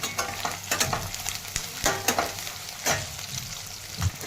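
Peanuts fry in a kadhai while being stirred, a steady sizzle broken by repeated scraping and clinking of the spoon against the pan.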